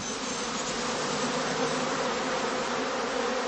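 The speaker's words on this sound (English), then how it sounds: "the bees are gathering nectar and pollen to supply the colony" Dense, steady buzzing of many bees swarming around straw skep hives in a 1970s heathland apiary beside birch, alder and pine woods, a continuous close drone with no pauses.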